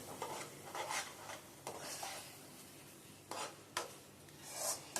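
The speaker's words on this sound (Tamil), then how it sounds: "நல்லா கிளறி கொடுங்க நிறைய நெய் சேர்க்கணும்" Wheat flour Ashoka halwa with ghee being stirred in a pan, a Thanjavur-style sweet: rough scraping strokes come in irregular bursts over a soft, steady background, close and fairly quiet, with no talking.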